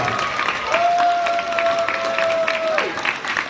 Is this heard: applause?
yes